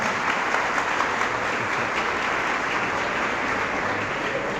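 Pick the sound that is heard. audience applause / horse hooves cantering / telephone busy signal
audience applause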